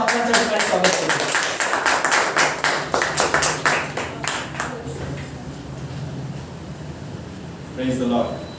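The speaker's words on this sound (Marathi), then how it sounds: "टाळ्या वाजवून पास्टरांच्या ठिकाणी स्वागत करतो." A church congregation at a Good Friday service claps to welcome the pastor, with dense, roomy applause that fades out halfway through over a low hum, and then a voice speaks briefly.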